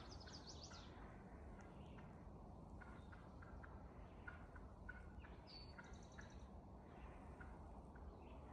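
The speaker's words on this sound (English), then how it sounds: "There goes the turkey. Hen." A wild turkey hen calls on a forested mountain trail, with a series of short, faint clucks and yelps at a distance over a steady background hiss.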